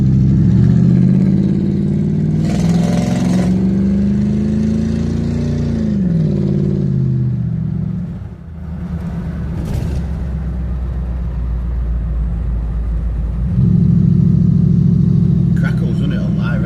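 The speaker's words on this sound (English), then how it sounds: "crackles, doesn't it, on high revs?" A classic Lincoln Continental Mark III rumbles on the road, its engine revving up and easing back with a deep drone throughout, while people talk over it.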